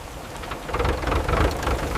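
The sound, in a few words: rain falling with thunder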